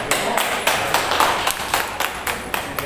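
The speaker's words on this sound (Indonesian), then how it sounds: "Tepuk tangan." Seminar participants clap together at an orientation session in Pemalang, Indonesia, a loud burst of hand claps with sharp rhythmic accents recurring every half second or so.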